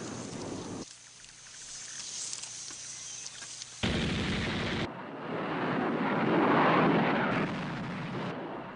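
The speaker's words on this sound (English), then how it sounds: "The reaction from North Vietnam's air defenses was furious. SAMs and anti-aircraft guns were reinforced as the raids went on." North Vietnamese anti-aircraft guns fire during the Rolling Thunder air raids in a harsh, dense barrage of bursts. Sharp cuts break it into sections, and a rumbling roar swells later on.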